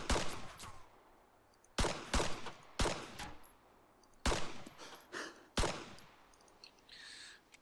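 Pistol fire from an M1911 in the ArmA 3 video game: six sharp single shots at irregular intervals, each followed by a short echoing tail, with no talk.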